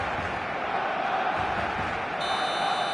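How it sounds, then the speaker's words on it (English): Roaring stadium crowd in a football video game, a dense, loud, continuous wash of voices chanting and cheering throughout, with no distinct pauses. "This place is living up to its reputation as one of the noisiest corners of the footballing world. No decibels spared in this collective chorus."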